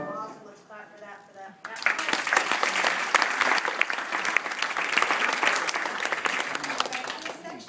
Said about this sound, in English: Let's clap for that.